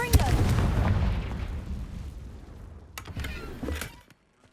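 Confringo fire spell blast in Hogwarts Legacy, a loud booming burst at the start that rolls off over a couple of seconds, followed by a few sharper crackling pops before it cuts to silence.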